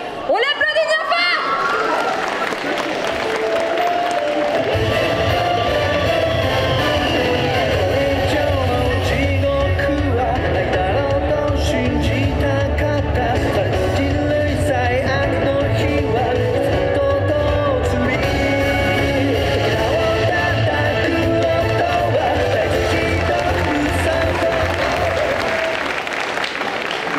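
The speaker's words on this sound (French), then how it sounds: "On l'applaudit bien fort!" A crowd at a cosplay parade at Quimper Japan Manga Wave 2024 applauds and cheers a cosplayer, with loud, sustained clapping and whoops over thumping event music, a dense, continuous roar throughout.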